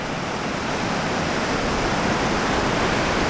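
Rain-fed runoff from a burned hillside surges through the Big Thompson River in its canyon by Estes Park, filling the scene with an unbroken, close, heavy rush of churning water at constant loudness.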